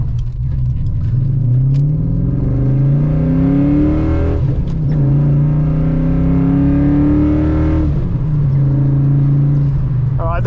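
A Holden VP SS V8 with a five-speed manual launches from 0 to 100, engine roaring loud from inside the cabin as revs climb in rising sweeps through gear changes around four and eight seconds.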